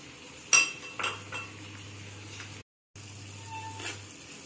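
A spoon clinks and scrapes against a pan while shahi paneer with raisins is stirred, a few distinct metallic taps and faint scraping over a low steady hum, with a brief silent gap midway.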